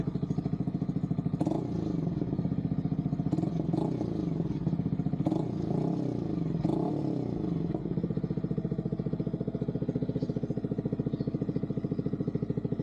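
A Yamaha XSR 155 motorcycle fitted with a new muffler idles close by with a steady throb, broken by four sharp throttle blips that rise and fall before it settles back to a rumbling idle.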